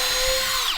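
A power drill bores a 5/8 inch hole into the log wall of a tiny remote cabin in Alaska, giving a short, loud, high-pitched whine that holds steady and then drops away as the bit spins down.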